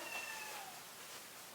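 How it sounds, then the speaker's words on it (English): A cat meows outside a closed door, wanting to be let into the room: a single faint, drawn-out cry with a falling pitch, distant and thin against quiet indoor room noise. "That's my cat. He just wants to get in."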